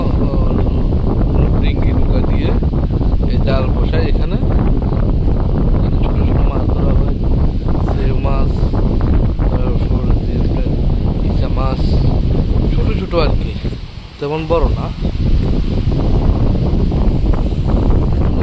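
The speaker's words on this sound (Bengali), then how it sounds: "এখানে আসলে নদীর কিনারে আসলে বোঝা যায় কি পরিমাণ বাতাস" Strong wind buffets a riverbank where small fishing boats work, a loud, constant roar of gusts and microphone rumble with a voice talking over it.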